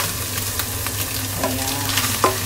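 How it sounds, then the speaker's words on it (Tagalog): Soaked rice hitting hot oil in a large frying pan, a dense steady sizzle with a couple of sharp scraping stirs near the end, no voices. "Lalagay na natin yung rice na binabad natin after 15 minutes."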